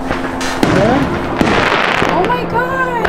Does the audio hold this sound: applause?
no